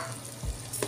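Rice grains poured into a pan where onion is frying in oil, a brief close sizzle with a soft rattling pour, alone without talk.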